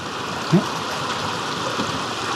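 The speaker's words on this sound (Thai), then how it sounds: "ดูน้ำไหล" Fast-moving floodwater rushing through a flooded market area in Mae Sai, a steady broadband wash of flowing water heard close and continuous, with no talk.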